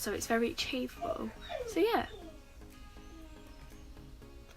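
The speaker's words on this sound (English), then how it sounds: "that's my dog crying out the window." A pet dog cries and whines out a window, a series of high, wavering whimpers over the first two seconds, mixed with a person talking, then fading to quiet room tone.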